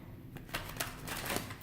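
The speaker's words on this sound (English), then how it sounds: "one more shuffle." Tarot cards riffle and slap together in quick, crisp bursts, a short close-up shuffle without any talking.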